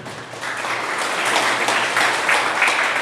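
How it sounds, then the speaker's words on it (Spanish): A church congregation applauds, broad sustained clapping that swells gradually and holds steady at moderate loudness. "Denle un aplauso a Dios por eso que hace ese equipo"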